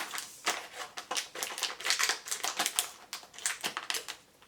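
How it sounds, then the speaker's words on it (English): Scissors snip through ingredients for a homemade brown-spot skin treatment: a quick run of crisp, close cuts in an irregular rhythm, heard clearly with no talking. "I brought the scissors here, so I am gonna just cut these"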